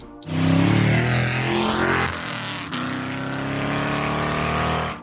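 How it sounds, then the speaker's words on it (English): A supercharged 2017 Dodge Challenger R/T with a Whipple blower fires up and revs, its loud, close engine surging in a strong rising blip, then settling into a rumbling idle before cutting off. "Y'all might remember this supercharged Challenger from a few months ago."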